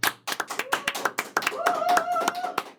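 A group claps in short, uneven bursts of hand claps, with a steady tone sounding underneath and voices in the background.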